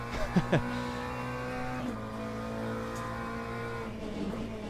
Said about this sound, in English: the added noise under braking, this little rough sound thing. That's ABS, of course.